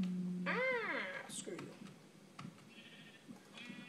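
A single wavering sheep bleat from Minecraft rings out loud and close, followed by scattered game clicks and soft background sounds.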